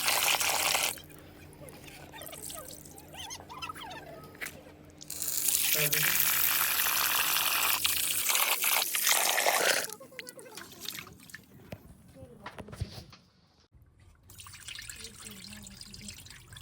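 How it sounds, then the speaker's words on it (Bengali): Rice is rinsed in water several times, with bursts of gushing, swishing water and running-tap sounds between quieter dripping and handling noises, close by. "এটাকে আমি চালটাকে ভালো করে রেডি করে নিয়েছি, 3-4 বার করে ভালো করে ধোবো, যাতে কিছু পোকা বা কোনো কিছু না থাকে।"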